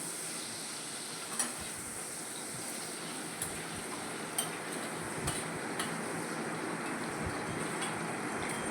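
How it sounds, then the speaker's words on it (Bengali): Cut potatoes coated in turmeric and salt frying in oil in a pan, a soft steady sizzle broken by a few light clicks of a utensil against the pan. "এখানে আলু ভেজে নিচ্ছি"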